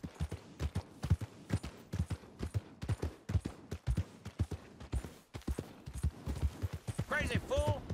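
Horse hooves clip-clop in a steady, fairly close rhythm in Red Dead Redemption, the galloping beats clear and loud, with brief voices near the end.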